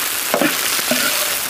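Pork belly sizzles in hot spiced oil, steady close frying hiss with a few brief spatters and stirring scrapes, no voices.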